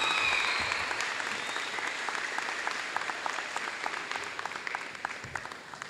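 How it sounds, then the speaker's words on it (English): A school audience applauds students receiving scholar awards, a dense patter of many hands that slowly tapers, with a brief whoop early on and a murmur of voices beneath. "it is so nice to hear you clapping for your peers"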